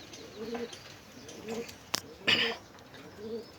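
Pigeons coo in soft, low repeated phrases close by, with one brief sharp sound and a short burst of noise midway, and nobody speaking.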